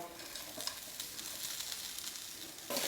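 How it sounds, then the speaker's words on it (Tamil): Grated coconut sautéing in a pan for mutton curry, a faint steady sizzle with soft stirring scrapes, close and quiet throughout. "தேங்காய் சேர்த்து ஒரு நிமிஷம் நல்லா வதக்கி விட்டுருங்க"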